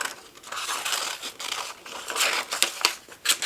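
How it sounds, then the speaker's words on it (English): Scissors snip around a photo on paper for a DIY scrapbook mini album, making close, crisp cutting and crinkling sounds in uneven bursts, each short stroke slicing through the sheet. "And I'm going to cut around it."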